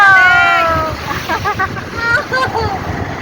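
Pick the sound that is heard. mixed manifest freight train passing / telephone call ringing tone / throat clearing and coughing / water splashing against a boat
water splashing against a boat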